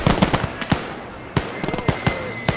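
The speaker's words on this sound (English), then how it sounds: "I see the green tracer rounds from the German MGs." German machine guns in a WWII video game battle fire rapid, sharp cracking bursts in quick uneven volleys, close and loud, with brief gaps between strings of shots.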